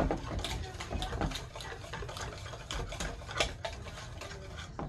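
Pancake batter being stirred by hand in a mixing bowl, a thick mix giving repeated scraping, clattering strokes in an uneven rhythm, close and fairly steady throughout.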